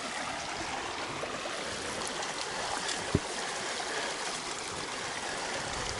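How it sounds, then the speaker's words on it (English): A quickly flowing creek in the middle of the woods gives a steady, even rush of running water, moderately close and constant, with one brief knock partway through. "Another nice creek right in the middle of the woods"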